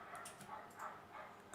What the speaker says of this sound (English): that dog's really going for whatever